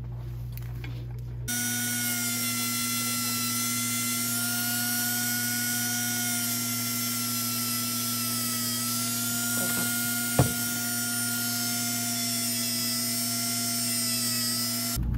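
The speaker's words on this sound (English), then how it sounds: "using this burr inside of our handpiece" A dental handpiece fitted with a flat stone burr whines steadily and loudly while smoothing solder on a lower lingual holding arch, a sustained high-pitched tone with one brief sharp knock near the end.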